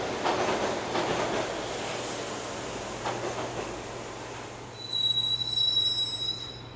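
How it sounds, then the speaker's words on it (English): Train ride in the Max Payne Mobile video game: a steady rolling rumble with loud metallic wheel squeals throughout, rising to sharper high-pitched screeches near the end, with no voices. "the train doors had already shut behind me, and I was in for the ride"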